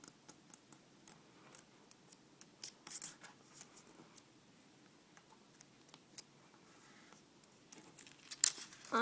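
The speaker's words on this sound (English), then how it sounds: "Fold it in half diagonally to make a triangle." Quiet, close paper handling while folding a square diagonally into a triangle for an origami crane: soft crinkles, light taps and small creasing clicks scattered irregularly throughout.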